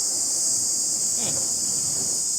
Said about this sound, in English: So, and then we got the cicadas.